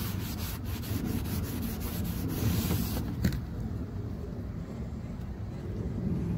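Steady dry rubbing and scrubbing of a cloth wiping WD-40 off a car headlight, continuous and close, with a short bump partway through.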